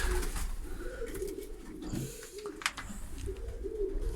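Pigeons coo softly inside a breeding loft, low throaty calls repeating in short rolling phrases, close by, with faint rustling and scattered clicks in the background.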